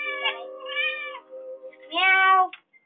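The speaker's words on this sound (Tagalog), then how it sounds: "Meow." A cat meows up close in three drawn-out, tonal cries, two close together and then a louder, longer one after a short pause, ending with a small chirp.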